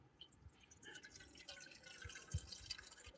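Hot pasta water drains during outdoor cooking, with light splashing and dripping that comes and goes, quiet and close, with no talking.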